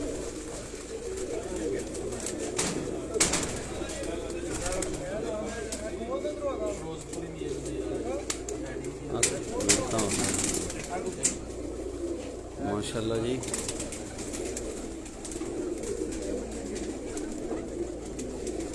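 Batera and Kasuri cross pigeons coo repeatedly on a rooftop loft, with low murmuring calls under ongoing conversation between men and occasional louder clatter.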